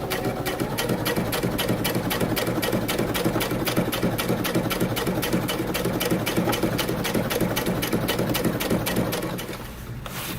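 Rapid, steady needle strokes from a sewing machine top stitching a jeans pocket, running continuously and close for about ten seconds before easing off at the very end.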